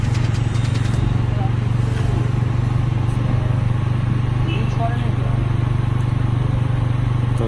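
A Bullet motorcycle's engine drones in a low, steady thump close by as it pulls along a potholed, rough road, with faint clatter over the continuous rumble.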